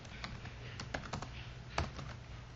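A computer keyboard is typed on in a quick, quiet burst of clicky keystrokes, close by and with no talking.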